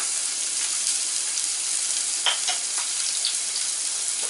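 Onions and green chilies frying lightly in a pan, a steady, even hiss of sizzling oil with a few faint clicks and light stirring, no speech.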